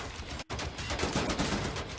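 Rapid gunfire in the Wolfenstein game, a dense burst of close, loud shots fired in quick succession with a short break after the first moment; no talking.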